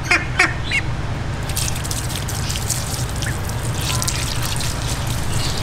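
A pet duck quacks while being showered at home, with brief calls early on over a steady stream of running water and dripping, close by.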